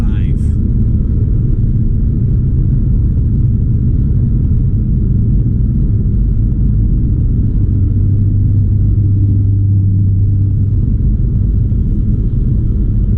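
Steady low road rumble and engine drone from a car cruising west on US 290 highway, continuous and fairly loud throughout, with a brief faint higher noise at the start.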